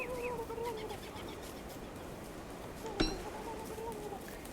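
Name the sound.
turkey gobbling in the video game Don't Starve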